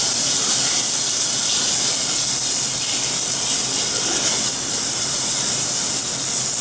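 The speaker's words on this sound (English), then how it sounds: "Butter, pan, get it fuming a little bit. Put your bones right away." Bones searing in fuming, browning butter in a hot pan, a steady loud hiss and sizzle running unbroken throughout.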